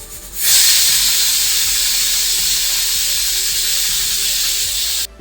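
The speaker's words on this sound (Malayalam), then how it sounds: "എന്നെ സ്വപ്നത്തിൽ നിന്നൊക്കെ മോചിപ്പിക്കണത് ഇതുപോലെ കുക്കറിൻ്റെ ഒക്കെ വിസിലാണ്" A pressure cooker lets off steam in a home kitchen, a loud continuous hiss that starts abruptly and holds steady for several seconds before cutting off, with no talk.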